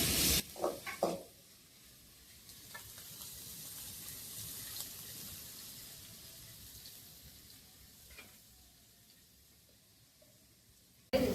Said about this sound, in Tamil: இது நல்லா செவந்து பொன்னிறமா வறுத்துக்கலாங்கம்மா.